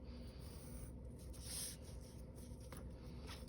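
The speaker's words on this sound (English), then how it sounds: "You're going to trace some rectangles on your paper." A pencil traces rectangles on paper during shading practice. It gives quiet, steady scratchy strokes with soft rubbing, close by, with no talk.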